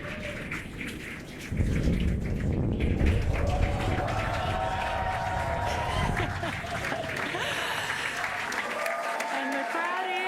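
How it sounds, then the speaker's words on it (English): A crowd at a SpaceX Crew-10 launch cheers as the Falcon 9 booster touches down on Landing Zone 1, a broad roaring wash that surges in after a second and a half and holds steady while a commentator talks over it. "And the crowd here is excited to see Falcon 9 touch down on landing zone 1."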